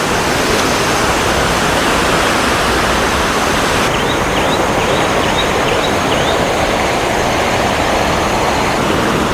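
River flowing down from Curug Luhur waterfall in southern Cianjur: a loud, steady, broadband rush of water that continues without a break, with faint chirps of birds joining partway through.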